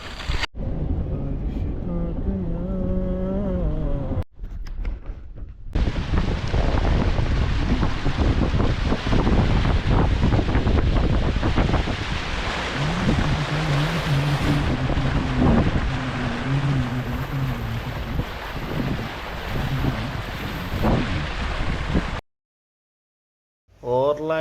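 A car driving through deep floodwater after rain in Dubai, with a steady loud rushing, sloshing roar of water against the vehicle that runs for most of the stretch and then cuts off abruptly near the end.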